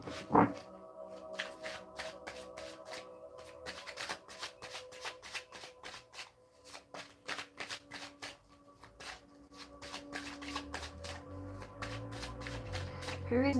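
Tarot cards shuffled by hand during a live psychic reading: a long run of rapid, crisp riffling flutters in quick rhythmic bursts, close and fairly loud, continuing almost without pause throughout.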